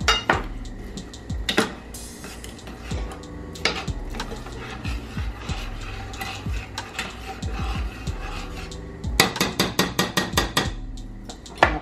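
Repeated scraping and clinking of a utensil stirring rice in a metal pot, with irregular taps that grow quicker and denser toward the end, close and fairly clear.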